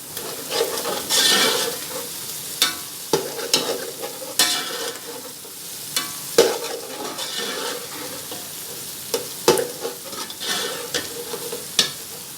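Green chillies fry in a pan for matar pulao, a steady sizzle broken by repeated sharp scrapes and clacks of a spoon stirring against the pan, close and loud with no talking.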